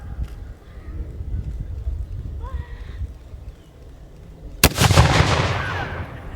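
A single loud cannon blast at a Battle of Monmouth anniversary demonstration, one sharp boom followed by a rumbling tail outdoors, after shouted commands and crowd chatter.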